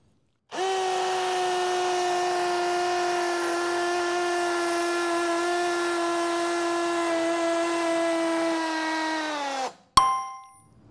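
An impact driver fitted with a carbide masonry bit bores a hole under pressure. It makes a loud, steady whine with a strong harmonic buzz that lasts about nine seconds, then winds down and stops, followed by a brief metallic clang.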